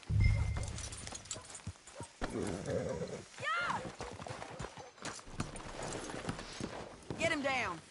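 Horse hooves clip-clop in Red Dead Redemption 2, mostly under frequent talking, with a whinny-like rising call and other game sounds mixed in.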